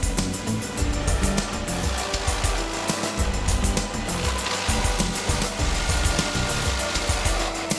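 A stump grinder chews into a large ironwood stump, a loud, continuous, rough mechanical roar with gritty churning and no pauses.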